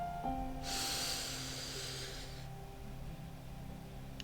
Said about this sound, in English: Take a slow, deep breath in.